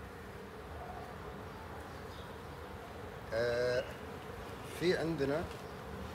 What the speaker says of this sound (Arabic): لو تلاحظون في كمية نحل داخل